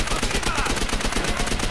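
Dense, continuous automatic gunfire fills a Call of Duty match with a steady rapid rattle at constant loudness and no pauses.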